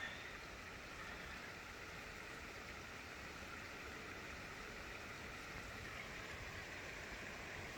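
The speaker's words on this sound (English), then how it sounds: "You can hear, I don't know if y'all can hear it, but you can hear the water running." A creek runs beside a camp in the Ouachita Mountains at night, giving a steady, even rush of flowing water. It sounds close and continuous, holds at the same level throughout and is heard alone, with no talking.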